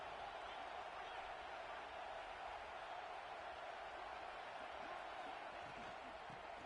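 Steady roar of a college football stadium crowd making noise to back its defense before a red zone down, a dense wall of cheering that holds even and loud throughout without letup.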